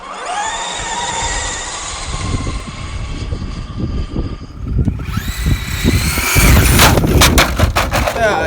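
Traxxas Drag Slash RC car launching hard on a drag run, a high electric motor whine rising in pitch over rising tire and drivetrain noise, loud and close, growing louder toward the end.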